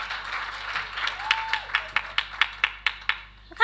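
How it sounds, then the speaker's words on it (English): Sparse applause from an audience at an annual general meeting, a few scattered claps building into distinct individual hand claps, moderately faint over a quiet room with a brief voice. "we deserve a round of applause"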